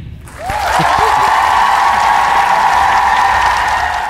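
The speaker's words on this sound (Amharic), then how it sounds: "እስቲ አጨብጭቡ" An audience at an Ethiopian stand-up comedy show applauds, with sustained loud clapping that swells in and holds steady, a long high-pitched cry riding over it.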